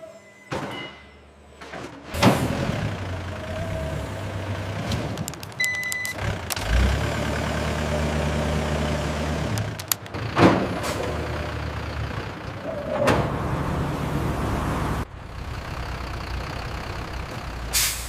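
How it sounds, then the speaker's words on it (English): A truck engine runs steadily while a lifting machine loading boxes at a bread factory whirs and clunks, with hisses and bangs from loading and air brakes nearby. "Two workers are lifting these boxes with the lifter machine and loading them onto the truck."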